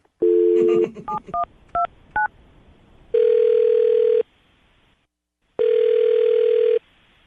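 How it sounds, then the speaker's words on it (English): A series of telephone keypad tones beeps in quick succession on a radio show, followed by two long steady dial-tone drones separated by a short silence. "I'm going to dial the phone number right now"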